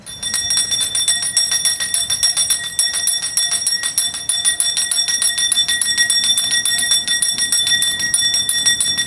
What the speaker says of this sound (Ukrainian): хай дзвоник дзвоне радісно і завзято